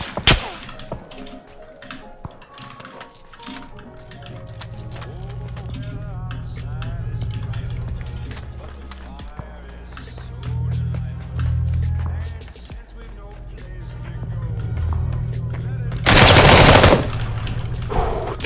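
Gunfire from behind in the battle royale game PUBG, with rapid shots mixed into game ambience, then a loud, sharp burst near the end.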